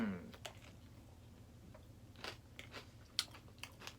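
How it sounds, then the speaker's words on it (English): Pork rinds on a keto tuna hot dish crunched between the teeth, a few quiet, close, irregular bites and crackles over a low background hum. "You hear that crunch?"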